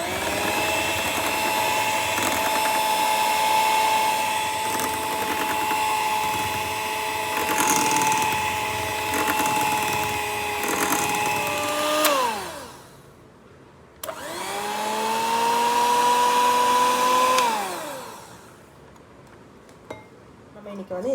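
Handheld electric beater mixing cake batter, a loud steady whine that drops in pitch as it slows, stops, then restarts and winds down again.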